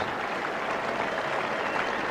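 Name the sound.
cricket crowd applause for a batsman's century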